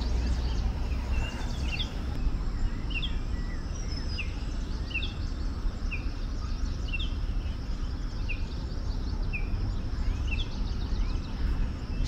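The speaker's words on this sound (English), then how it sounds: "Some blackbirds and a red-breasted robin right there." Blackbirds and a red-breasted robin sing in a small green space in the heart of Buenos Aires, their faint, repeated phrases chirping over a loud, steady rumble of city traffic.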